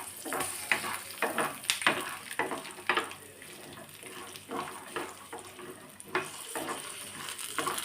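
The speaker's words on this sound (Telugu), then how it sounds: "వేసుకొని మంచిగా దోరగా ఫ్రై చేసుకోవాలి" Peanuts and coriander seeds dry-roasting in a pan, with a close, crackling sizzle and repeated scraping stirs that come in irregular bursts, and no voices.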